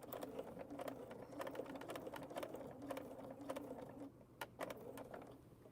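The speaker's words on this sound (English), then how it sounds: "I can stitch on the line here because I got it pinned" Sewing machine stitching along a pinned seam line, a steady rapid needle rhythm running close and fairly quiet, pausing briefly near the end before resuming.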